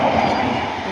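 EU07 electric locomotive EU07-325 pulling a train into Tarnów station, a loud, steady rolling rumble of rail wheels and a passing train close by.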